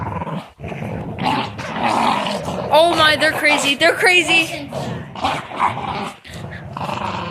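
Dogs play fighting growl and snarl up close in continuous rough bursts with yips, while a person talks excitedly over them.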